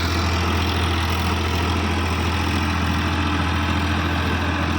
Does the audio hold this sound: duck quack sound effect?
no